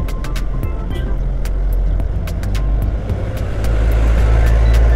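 A truck on a road near Bukittinggi, West Sumatra, running close behind a car: a steady, loud low engine rumble and road roar that swells slightly toward the end, with no talk.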